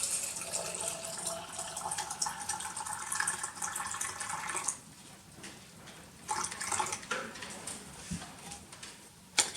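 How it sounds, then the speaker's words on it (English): Liquid poured into canning jars of unsoaked beans to an inch of headspace, a steady splashing pour that pauses, then resumes in shorter bursts with a clink near the end. "Now I'm going to fill the jars to an inch headspace."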